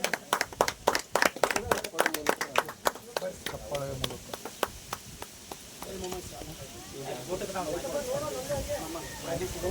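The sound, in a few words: audience clapping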